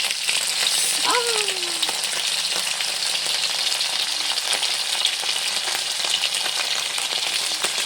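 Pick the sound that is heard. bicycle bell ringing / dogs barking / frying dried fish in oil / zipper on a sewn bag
frying dried fish in oil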